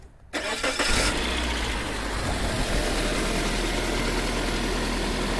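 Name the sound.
2003 Suzuki Aerio 2.0l engine start attempt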